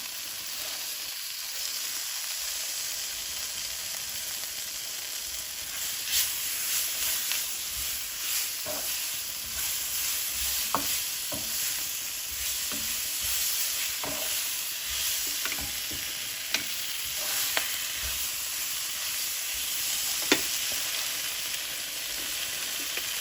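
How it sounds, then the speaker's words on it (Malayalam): Small spinach leaves sautéing in a pan give a continuous close sizzle and hiss, broken by soft scraping stirs and a few sharp clicks of the spatula, with no voices. "ചെറിയ സ്പിനാച്ച് ലീവ്സാണല്ലോ ഒന്ന് വഴറ്റാം"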